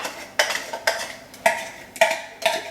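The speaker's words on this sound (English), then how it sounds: "Let me get a spoon to get this out." A metal spoon scrapes black beans out of a can in a home kitchen, five or six quick, distinct scraping strokes in an uneven rhythm, close and clear with no talking.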